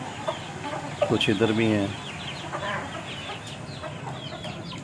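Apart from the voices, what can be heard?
chickens and chicks clucking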